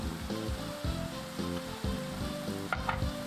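Ground meat and grated garlic frying in a pan for a British shepherd's pie, with a steady close sizzle broken by repeated scraping stirs.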